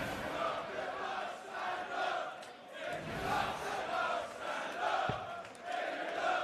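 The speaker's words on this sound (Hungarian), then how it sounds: "Énekel a közönség, ilyen nem is volt még a meccsen." Darts crowd singing together in the arena at a PDC World Grand Prix match, a loud, steady wash of many voices with rhythmic swells, rising and falling throughout.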